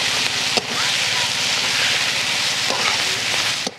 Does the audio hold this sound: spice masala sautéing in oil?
yes